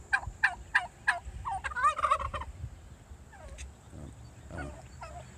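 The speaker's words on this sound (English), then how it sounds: "And there are those turkeys." Turkeys on a homestead organic garden plot gobble in a rapid series of loud, close calls, then quieter scattered clucks and gobbles follow over a low outdoor rumble.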